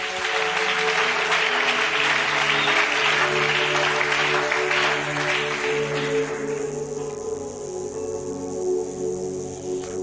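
A church congregation applauding to acclaim Jesus, a loud dense wash of clapping from many people over a sustained musical backing, fading out after about six seconds while the music continues.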